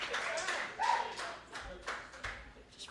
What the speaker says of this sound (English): clap for the next artist that is coming for the stage